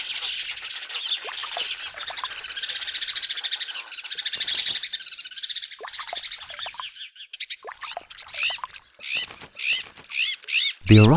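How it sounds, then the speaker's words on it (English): A rowdy group of azure-winged magpies arrives at a pond among sparrows and goldfinches, filling the air with dense, continuous chattering and chirping that breaks into sharp, repeated harsh calls near the end. "The arrival of a rowdy group of azure-winged magpies makes the sparrows and goldfinches think they should perhaps leave their spot"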